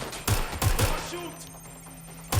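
Gunfire in the video game Watch Dogs Legion: a few sharp shots in quick succession, then a pause filled by a low hum and faint chatter, then another shot at the end.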